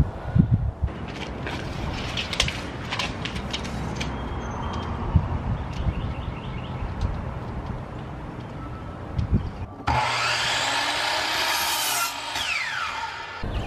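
A power saw cuts through a cedar board for a support post column wrap, with scattered knocks and handling clatter first, then a loud steady cutting whine near the end.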